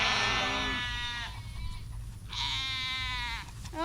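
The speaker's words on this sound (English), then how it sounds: "Come on, sheep!" Sheep on a farm bleat loudly and close by, two drawn-out wavering calls separated by a short gap, with faint background noise between them.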